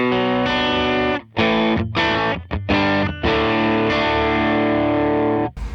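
A distorted electric guitar, driven by amp drive through an HX Stomp preset, strums crunchy chords with short pauses between them, loud and close, with no voices.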